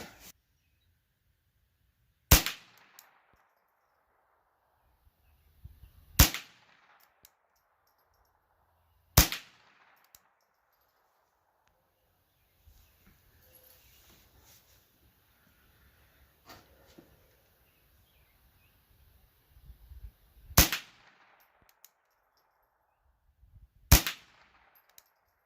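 ATI GSG STG-44 rifle fired at a range in five single shots spaced several seconds apart, each sharp and loud with a short decay, and quiet stretches between them.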